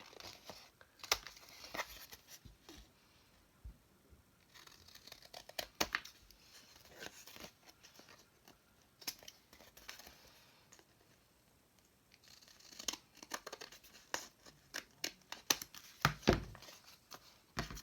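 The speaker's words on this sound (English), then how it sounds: "trim the belly band edges to the size of the page" Paper belly band edges on an embellished Little Golden Book being trimmed, heard as faint, scattered crinkles and sharp snips in bursts, quieter in the middle and busier near the end, with no talking.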